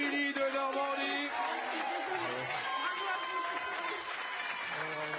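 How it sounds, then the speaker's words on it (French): Studio audience applauding a contestant on a French television quiz show, a steady broadband wash of clapping and crowd noise running throughout, with music tones layered over it. "On applaudit Émilie de Normandie."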